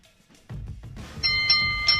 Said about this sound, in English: If they are bold enough, you will hear the bold enough bell.